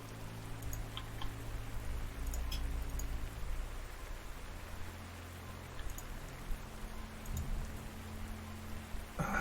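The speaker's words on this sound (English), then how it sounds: "It's still raining" Continuous patter of rain in the game Panzer Corps, set in 1940, with occasional sharper drops over a low rumbling hum, steady and moderately loud throughout.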